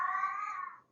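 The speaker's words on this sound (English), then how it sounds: "My cat is howling the howl of death for no good reason" A house cat lets out a single drawn-out, wailing howl that holds steady for about a second before trailing off, close by with no talking.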